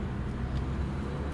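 A car in second gear during a driving lesson, heard from inside as a quiet, steady engine and road drone with no distinct peaks.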